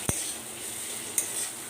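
Onion, ginger and garlic frying in a pan, a soft continuous sizzle broken by two sharp utensil clicks against the pan, quiet and close.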